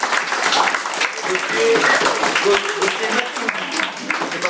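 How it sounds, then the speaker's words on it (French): A youth football club audience gives a guest a round of applause in a hall, mixed clapping that swells and fades while a voice talks over it. "ce qu'on peut déjà faire, c'est l'applaudir"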